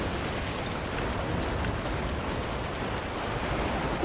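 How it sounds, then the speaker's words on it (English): A heavy downpour in Monster Hunter Wilds hisses as a dense, constant wash of rain, even and moderately loud throughout with no voices. "The rain's really coming down."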